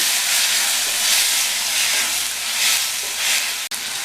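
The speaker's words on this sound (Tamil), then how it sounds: "இந்த தக்காளியும் வதங்கட்டும்." Chopped tomato sautéing with onions in a hot pan gives a steady, loud frying sizzle and hiss that runs throughout, close up and uninterrupted, with no voices over it.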